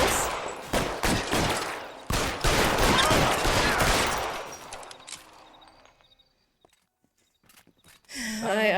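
Rapid bursts of gunfire crackle through a shootout in LA Noire, the video game, dense and loud for several seconds before fading to near silence, with a brief late sound at the end.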